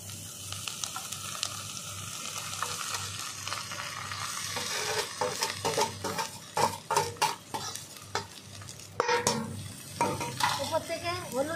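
Young taro leaf greens are stirred into frying oil in a pan, with a sizzling hiss and irregular close scrapes and clinks of a spatula against the pan, growing busier toward the end.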